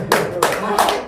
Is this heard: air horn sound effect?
no